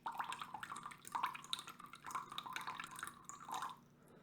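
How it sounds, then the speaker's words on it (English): Rice vinegar poured into a bowl for an Asian coleslaw dressing, a soft, faint trickle with light drips that runs for about four seconds, alone. "Some rice vinegar."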